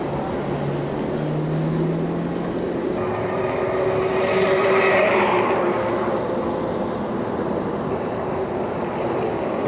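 A Super73 electric bike rides steadily past, a continuous loud rushing and whirring that swells midway as it draws nearest, then eases off without a break.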